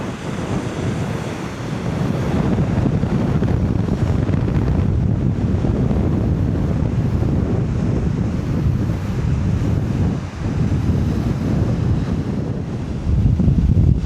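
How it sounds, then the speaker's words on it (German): Strong wind on a Corsican beach buffets the microphone in a constant low roar, with surf-like rushing underneath and a brief dip near the end. "Da war es windig, das könnt ihr euch nicht vorstellen."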